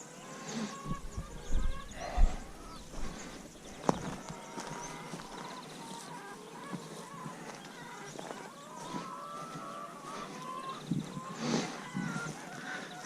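Thirty layer hens squawk and cackle in scattered bursts while being moved in a chicken tractor outdoors, a busy flock chatter of overlapping calls with occasional knocks and rustles, fairly faint.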